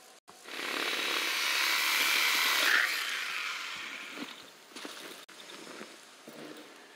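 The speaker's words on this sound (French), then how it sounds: "Les gars, je vais utiliser ma scie," A hand saw cuts wood in the horror survival video game Darkwood: a steady, loud rasping drone lasting about four seconds, then fading into quieter scraping and knocks.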